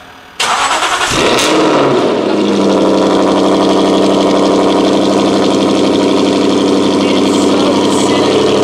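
A GT8 car engine fires up with a sharp starter burst, then settles into a loud, steady idle with some revving that carries on close by with no talking.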